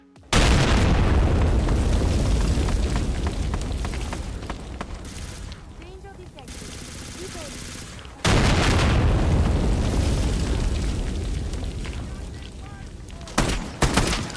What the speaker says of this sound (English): make all of the cars and mini nukes and big explosions sound a lot better